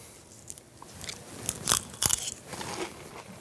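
Someone bites into a warm pear and blue cheese bite with mascarpone and honey, making a few close crunchy bites followed by soft chewing, quiet and without talk.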